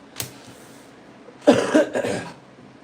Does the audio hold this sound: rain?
no